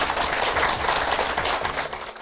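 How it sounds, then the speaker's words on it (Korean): Audience applause in a Korean TV lecture studio, dense steady clapping from a crowd that carries on for about two seconds and fades slightly at the end. "주님께 박수."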